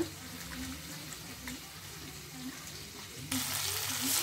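Tomatoes fry in oil for gongura pachadi, a steady soft sizzle running throughout with faint stirring knocks, growing louder and brighter near the end.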